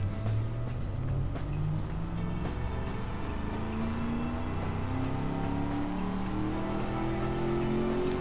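A V8 engine with a dual muffler runs steadily in the Automation car-building game, a muffled, low droning hum with slowly rising harmonic tones, continuous and fairly quiet throughout.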